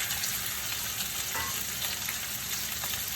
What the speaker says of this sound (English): I got the grease real hot. I'm gonna add the shrimp to it